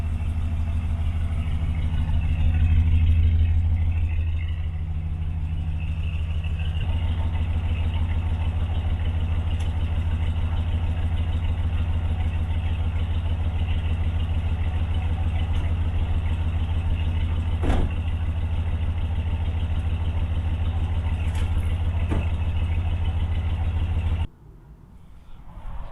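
A 1970 Buick Estate wagon's 455 big-block V8 idles steadily nearby, a deep even rumble with a hint of exhaust leak, running alone until it cuts off near the end.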